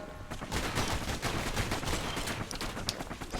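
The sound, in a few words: gunfire from enemies in the video game Bastion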